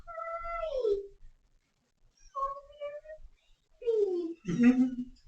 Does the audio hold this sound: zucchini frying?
no